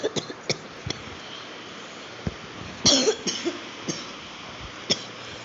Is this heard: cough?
yes